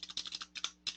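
Quick typing on a computer keyboard, a short burst of close, crisp key clicks in an uneven rhythm, alone and fairly quiet.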